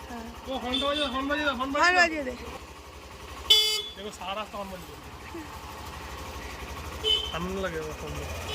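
Motorcycle ride in traffic, a motor hum running beneath lively talk, with a short sharp horn toot about midway and another faint honk later.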